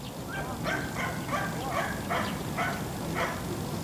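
A dog barks several times in a steady series during an obedience training session, moderately distant over a constant outdoor background noise.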